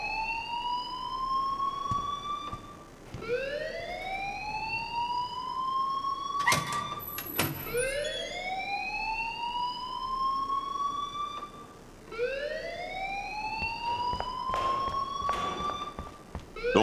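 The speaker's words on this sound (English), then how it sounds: "please turn off that alarm since that's your job" Wailing alarm in Life is Strange, a repeating rising siren sweep cycling roughly every three seconds, loud and continuous, with a couple of brief clanks in between and no voices.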